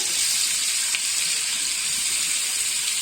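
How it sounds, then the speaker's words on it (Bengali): Onions fry in a pan after a batch of pabda fish, giving off a constant, even sizzling hiss that stays close and steady throughout, with no voices. "এখন পেঁয়াজগুলো ভেজে নিচ্ছি।"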